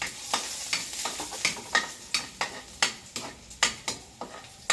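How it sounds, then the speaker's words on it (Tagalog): Garlic sautés in a reused pan with a sizzling hiss broken by a steady series of sharp scraping stirs, about ten strokes in quick rhythm, close and clear with no talking. "Using the same pan, let's saute the garlic"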